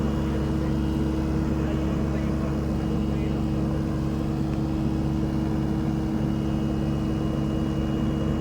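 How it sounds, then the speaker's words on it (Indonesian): A SANY excavator's diesel engine idles smoothly and steadily, a constant low droning hum close by with no breaks, and a person talks over it. "Mesinnya halus guys, halus sekali, bunyinya enak."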